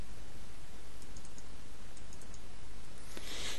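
Computer mouse clicks while selecting fields in Microsoft Access, several light, sharp ticks in small clusters over a steady background hiss.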